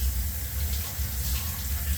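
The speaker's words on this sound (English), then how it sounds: "Let me rinse this off." Tap water running steadily while a largemouth bass fillet is rinsed under it, a continuous close splashing rush of water with no voice.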